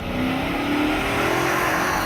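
A Dodge Charger safety chase car speeds down an airport runway with a steady, loud roar of engine and road noise that holds level for the whole span.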